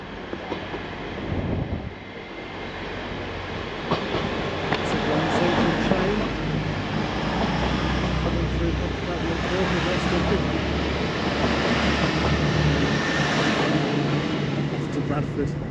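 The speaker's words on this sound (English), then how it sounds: "And we've got a bonus train. This one's not stopping at Pontefract Monkhill." A non-stopping train from London to Bradford runs through Pontefract Monkhill station, a loud rumbling rush of wheels and carriages that builds after a couple of seconds and holds steady, with a voice talking over it.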